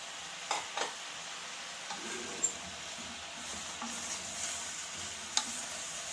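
Sweet corn soup being stirred in a pot, with soft scraping and a few sharp clinks of a spoon against the vessel over a faint background sizzle, close and quiet.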